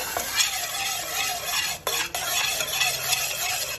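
Sugar melting in a pan for caramel pudding is stirred continuously, giving a steady scraping and sizzling texture close up, with a brief clink of the utensil midway and no talk.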